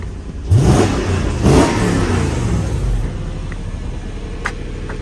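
A Lexus GX-470 engine is revved twice in quick succession, two loud rising pushes of the throttle that then fall back to a steady, close idle rumble.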